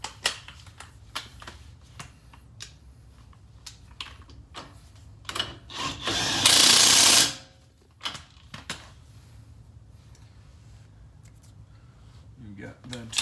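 Bolts are tightened on a Jeep Commander during a wheel bearing replacement, giving a run of close metallic clicks and ratchet taps with one loud hissing burst in the middle.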